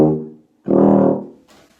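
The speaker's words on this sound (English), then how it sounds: "Then into the tuba, we can get some different sounds." A tuba sounds two separate brassy notes at different pitches, a short low tone followed after a brief pause by a longer, louder sustained note, close and alone.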